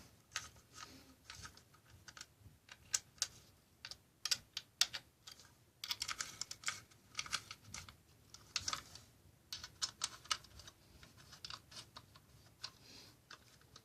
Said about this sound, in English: I'm gonna tighten these screws back up.